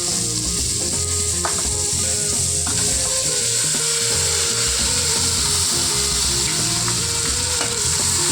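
Country chicken pieces fry in hot oil while being turned and stirred, loud close sizzling with repeated scraping and clattering of a utensil against the pan, no talking.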